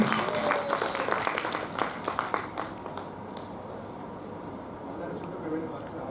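An audience claps at a felicitation ceremony for a charitable trust, a moderate burst of applause that gradually thins out and fades beneath a murmuring room.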